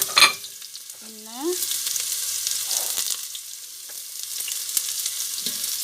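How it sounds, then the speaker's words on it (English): Onions frying in olive oil in a hot pot, a moderate hiss after a brief clatter and a short voice, with the sizzle continuing steadily. "the pot is already hot, so I'll put my olive oil in. So I'm gonna add my onions"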